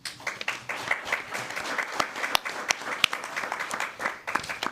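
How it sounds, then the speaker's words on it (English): A roomful of people applauds at a school board meeting, a continuous scattered clapping with some louder individual claps standing out, moderately distant and fairly soft. "Let's give him a round of applause."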